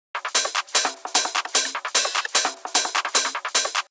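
A punchy electronic trance drum loop with steady repeating hits and crisp bright percussion, loud and upfront with no voices.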